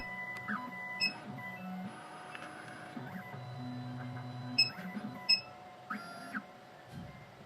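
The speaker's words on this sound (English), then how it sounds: "The machine will identify and check the right clamp." 2M2 Tank 2 Pro key cutting machine checking its clamp, a quiet run of electronic beeps and motor whirs with short mechanical clicks and buzzing moves, close and alone.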